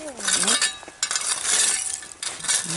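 Glass bottles clink and knock together as they are dug out of a rain-soaked old jug dump, with several sharp, bright clinks spread across the moment and a brief voice-like sound near the start.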